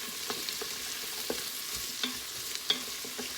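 Onions softening in an Instant Pot on sauté mode, giving a low, steady sizzle with a few soft clicks of stirring and no voices.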